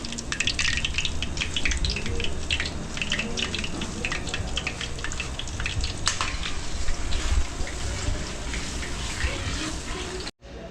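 Loud, continuous sizzling and crackling of chicken frying in hot oil in a restaurant kitchen, a dense hiss close by that runs without pause.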